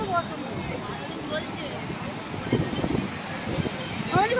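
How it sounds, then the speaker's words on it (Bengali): Night wind blowing steadily along the beach at Puri, a broad even rush filling the whole clip with faint murmurs of people in the background. "ভীষণ সুন্দর হাওয়া দিচ্ছে"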